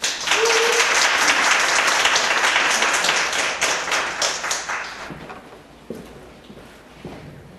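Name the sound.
audience applause welcoming a speaker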